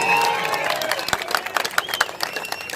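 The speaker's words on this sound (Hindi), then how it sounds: "ठोको ताली" An audience at a Hindi political rally speech breaks into scattered, uneven claps that grow more distinct toward the end, mixed with a murmur of crowd voices and cheering.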